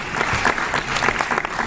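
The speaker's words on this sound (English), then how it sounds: "let us give a round of applause to our panelists." A conference audience applauds the panelists, a steady wash of dense clapping at full strength throughout.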